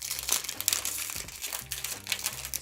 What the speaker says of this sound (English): Sorry if you can hear all the crinkling and whatnot